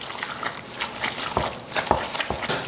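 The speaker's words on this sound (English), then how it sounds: "Give this a stir." A thick Cajun casserole mixture is stirred and folded in a pot, producing continuous wet squelching and sloshing with soft scraping strokes, close and fairly loud, without speech.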